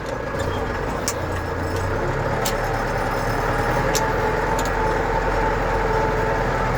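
A tractor pulls away while applying liquid KAS-32 fertilizer through a field applicator at 8–10 km/h, giving a steady, loud engine drone with broadband rumble and a few faint high clicks throughout.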